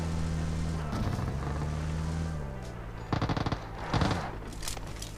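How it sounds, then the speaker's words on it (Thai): PUBG Mobile gunfire: bursts of rapid automatic shots over a steady engine-like drone, with a couple of short volleys in the second half. "เสียงปืนอยู่นี่"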